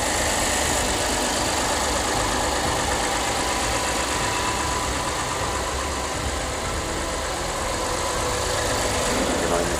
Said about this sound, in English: now you could hear like the car is running right now